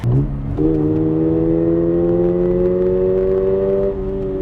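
Toyota GR86 engine heard from inside the cabin, a steady droning hum with rising harmonic pitch as revs climb smoothly after a brief dip, loud and continuous with no talk.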